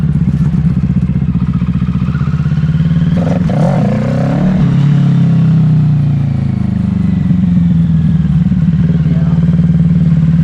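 A 2020 Kawasaki Ninja 650 motorcycle riding at night drones loudly and close, its engine note holding steady with a brief rise and clatter midway and no talk.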